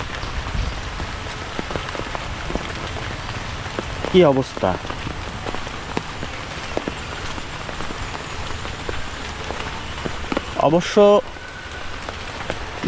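Rain falls steadily over a canal brimming with floodwater, a close, even patter of drops, while someone speaks briefly twice in short bursts.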